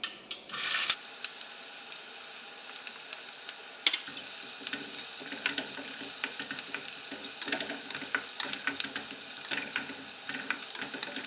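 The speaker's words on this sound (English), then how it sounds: "we're going to saute some onions, add some ginger and garlic" Onions saute in a hot pan with ginger and garlic for a momo filling: a loud hiss bursts up as they go in, then settles into a steady sizzle broken by frequent small clicks and scrapes of stirring.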